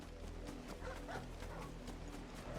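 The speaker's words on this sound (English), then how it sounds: "It's his pet dog." A pet dog in Final Fantasy 16 gives a few quiet, distant yips and barks over a low droning game score and ambient hum.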